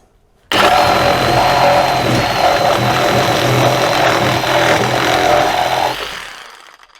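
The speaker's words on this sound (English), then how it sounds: "Hope you enjoyed the cutting demonstration and learning about the Kobalt 24v Brushless reciprocating saw" A Kobalt 24v brushless reciprocating saw (KRS 1824B-03) cuts through stock clamped in a vise, a loud, close, continuous buzzing roar lasting several seconds before winding down.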